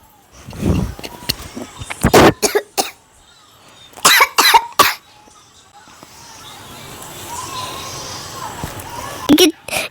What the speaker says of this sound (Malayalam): എനിക്ക് സംസാരിച്ച് ചുമ വന്നു ഗായ്സ് ആവേശം കൂടിയിട്ട്